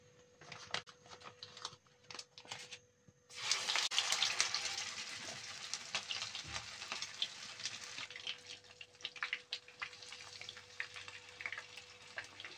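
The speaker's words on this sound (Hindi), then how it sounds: "इसमें ऑयल डाल दी मैं पैटिस फ्राई करने के लिए।" Burger patties frying in hot oil in a pan: quiet at first, then a loud, steady crackling sizzle bursts in a few seconds along and continues close up, with some scattered pops.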